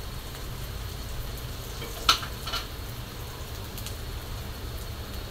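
Onion, tomato, green chilies and turmeric frying in a pan give a soft, even sizzle throughout, with a single sharp clink of a spoon against the pan near the middle; fairly quiet and with no talk.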